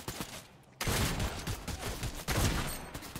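Rapid gunfire in the video game Fortnite, bursts of shots in quick succession after a brief lull, loud and close, with no speech.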